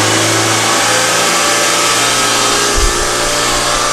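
A multi-cylinder petrol engine on a test bench runs with a continuous loud mid-pitched roar, holding steady revs with a brief low thump near the end, and no voices.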